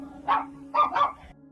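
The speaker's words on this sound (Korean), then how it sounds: "마당에 개들이 짖기 시작했고" Dogs in a house yard barking: one sharp bark, a pause, then two quick barks in succession, moderately loud at middle distance over a faint steady hum.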